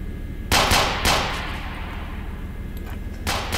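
Three sharp gunshots crack out in a police video game set on traffic police duty in Leeuwarden. Two come close together and a third follows a few seconds later, each loud with a short decaying tail over a low background rumble.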